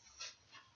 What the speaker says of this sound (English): The wolf whimpers and dies.